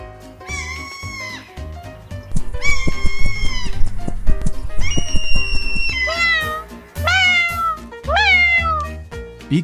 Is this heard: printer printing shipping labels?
no